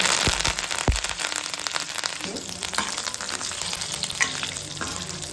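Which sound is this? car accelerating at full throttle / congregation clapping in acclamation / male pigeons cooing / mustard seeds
mustard seeds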